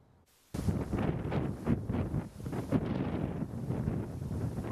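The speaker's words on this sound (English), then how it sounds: "It's been a windy night for Southern California, including us here in Kern County." Strong, gusty night wind in Kern County, Southern California, buffets the microphone in a loud, roaring rush that starts abruptly and keeps surging unevenly.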